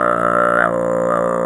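Tuvan throat singing in the Kargyraa style, a deep growling drone with rough, buzzing undertones, sustained and close, heard briefly on its own.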